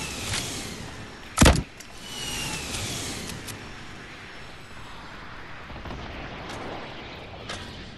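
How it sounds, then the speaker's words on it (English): A rocket launcher fires in a Fortnite match: one sharp, loud blast that booms and rumbles away, set against steady game ambience with faint scattered clicks. "I'm gonna hit him with a rocket."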